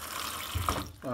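Tap water running over pine porcini mushrooms being rinsed, a soft steady splashing stream at low level, with a person speaking briefly near the end.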